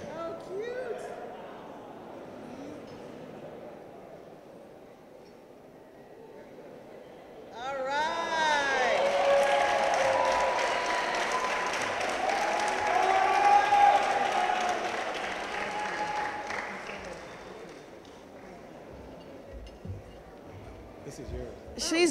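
A crowd at a hometown welcome event for an Olympic bobsledder bursts into loud applause and cheering that swells and holds for about ten seconds before fading, with talking over quieter background before and after.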